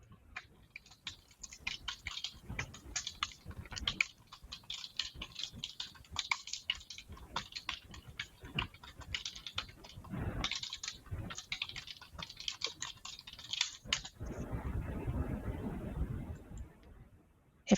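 Rapid clicking keystrokes on a computer keyboard run continuously in irregular bursts, close and moderately loud, ending in a denser stretch of typing with no voice over it.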